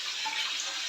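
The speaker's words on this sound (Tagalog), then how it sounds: "Kasi ang lakas-lakas na ng daloy ng aming tubig." Strong, steady rush of tap water running at a sink for laundry, a continuous hissing flow close by with no talk over it.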